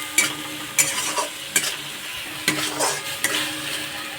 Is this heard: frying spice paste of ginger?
yes